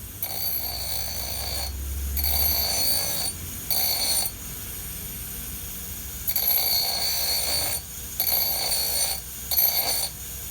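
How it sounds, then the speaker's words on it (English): Harsh, high grinding bursts from a small bench grinder come and go in several passes, loud and close, with short pauses between each stretch of 1050 medium carbon steel being ground while shaping a rounding hammer. "It really helps me to remove a lot of material in a quick manner, even on this small grinder."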